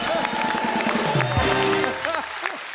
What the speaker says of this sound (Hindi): एक बार अभिषेक भाई के लिए जोरदार तालियां हो जाए।